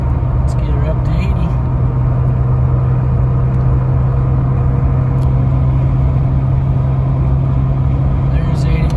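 Jeep Gladiator on 37-inch tires with 4.88 gears cruising at highway speed in 6th gear around 2,500 RPM, a loud constant engine drone and road rumble filling the cabin, with someone talking over it.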